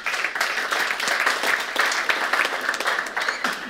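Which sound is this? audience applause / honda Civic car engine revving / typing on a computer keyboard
audience applause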